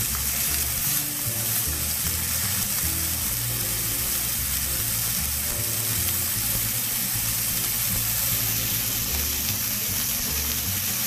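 Steaks searing in oil in a pan for steak au poivre, a steady loud sizzle and hiss that continues without a break, close up and alone with no talking.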